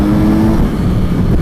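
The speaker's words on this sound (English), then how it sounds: "Kawasaki, one thing they did with this bike is they tuned the exhaust to sound great from the factory." A 2018 Kawasaki Z900RS motorcycle with its factory-tuned exhaust rumbles loudly and close, a deep steady engine note with a slight rev, no talking.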